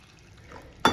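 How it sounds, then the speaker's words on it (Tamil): Coconut milk poured into a brinjal and tomato kadayal curry in a pan, a soft stirring hiss first, then a sudden loud splash and sizzle near the end. "இப்போ அடுத்தது வந்து தேங்காய் பால் ஊற்றணும்."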